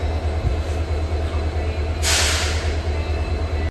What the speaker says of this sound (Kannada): ಟ್ರೈನ್ ಆಗಿದೆ, ಸಣ್ಣ ಹೊಂಟದ.